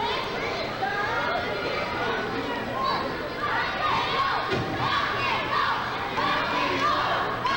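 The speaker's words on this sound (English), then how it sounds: "The crowd here in Bainbridge beginning to chant rock and roll" Wrestling crowd in Bainbridge chanting "rock and roll" during a tag match, a dense, continuous mass of shouting and cheering voices filling the venue, steady and moderately loud.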